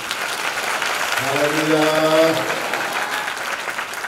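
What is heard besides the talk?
applause in a church service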